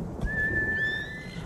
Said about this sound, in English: What I meant to do was call my horse.